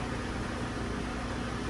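A steady, close hiss of pan spray coating a grill before NY strip steaks go on, continuous and even for under two seconds.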